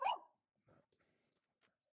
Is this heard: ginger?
no